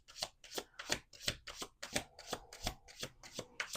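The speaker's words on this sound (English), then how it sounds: "And then I just shuffle." Cards are riffle-shuffled over and over in a quick, even rhythm, about ten crisp riffles close to the listener.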